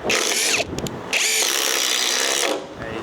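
A Makita 18-volt impact driver runs in two loud, close bursts of high whining motor and rattling impacts, with a brief pause between them and a short stop at the end.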